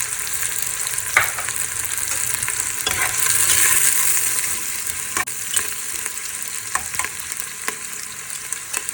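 Curry leaves and cinnamon sticks frying in hot oil for a red kidney bean lobia curry, with a steady loud sizzle and occasional stirring clicks, close and without talk.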